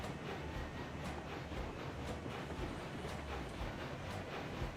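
A steam locomotive on an oil train in Railroads Online runs on rails with the regulator opened, giving a steady rolling rumble with rhythmic clickety-clack of wheels, fairly quiet, with no talking.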